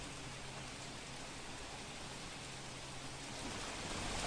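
Heavy, unbroken rain pours down over Ahmedabad, a dense constant hiss of water on surfaces at steady loudness, swelling slightly toward the end, with no voices.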